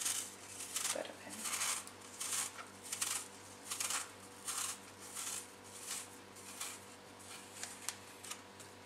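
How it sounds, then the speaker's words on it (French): An apple peeled by hand in a home kitchen, giving a series of short, crisp scraping strokes in a loose rhythm, close and quiet, with occasional low talk in the background. "Vous allez l'éplucher."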